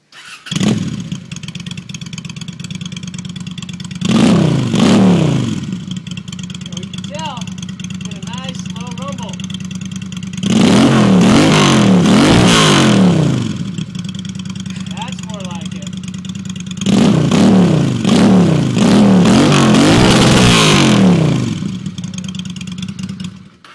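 A Honda VLX 600 motorcycle fitted with a hole saw exhaust mod starts up and idles with a low throbbing rumble, then revs hard in three loud bursts between idle stretches, close by.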